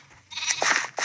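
A Minecraft sheep gives a brief, close bleat that wavers over about half a second against a quiet background.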